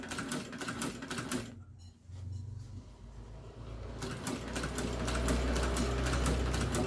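A sewing machine runs in steady bursts as it stitches a student's backpack strap, its rapid needle chatter loud and close, pausing briefly before resuming with heavier, continuous running.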